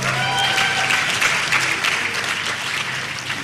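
A convocation crowd at the University of Lagos claps for first-class graduates, sustained, loud applause from a large gathering with a faint tonal hum beneath it and no voice over the top.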